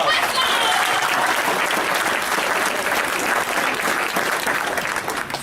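A comedy hour audience at a convention gives a loud, dense round of applause, sustained and even for several seconds, crowd-wide and close.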